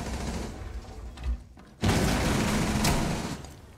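Gunfire and a grenade blast in Rainbow Six Siege: sustained rattling shots, a brief lull, then a loud booming burst that stays dense and noisy.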